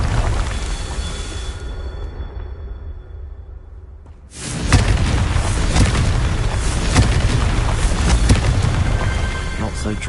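A Confringo spell explosion in the video game Hogwarts Legacy bursts out partway through, a sudden loud boom and whoosh that gives way to a sustained roaring rumble over game sounds and a voice.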